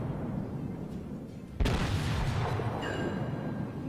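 Heavy battleship main guns fire on a destroyer during a World of Warships naval battle, one deep booming salvo bursting loud after a low rumbling lull, followed by sustained roar and a faint whistling tone.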